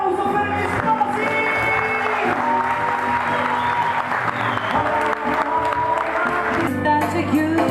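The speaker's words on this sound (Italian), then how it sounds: "L'applauso per gli sposi!" Wedding guests at Villa Regina clap for the bride and groom over loud live music, with scattered cheers and whoops mixed into the steady applause throughout.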